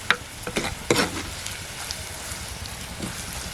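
Sliced onions fry in a pan for a green chilli curd curry, cooked until crisp. A soft, steady sizzle runs throughout, and a few sharp stirring scrapes stand out near the start.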